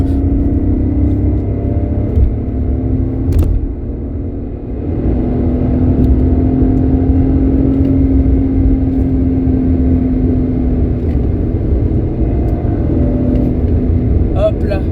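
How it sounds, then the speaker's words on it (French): A car engine pulls steadily in third gear during a drive, a loud continuous droning hum and rumble from inside the cabin, level throughout with a brief dip midway. "Donc là je suis en vitesse 3 du coup, donc c'est normal si ça fait du bruit."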